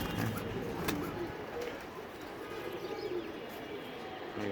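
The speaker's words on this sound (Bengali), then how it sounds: "বাগা কবুতর নেবেন, ছাপশিলা কবুতর নেবেন" Pigeons of the baga and chapshila breeds cooing softly in a loft or cage area, low steady murmuring calls with faint chirps over a constant background hum, no talking.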